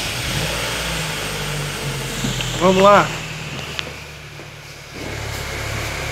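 A Chevrolet Agile's engine cranks and starts, then settles into a steady idle, with a brief spoken word just before the start.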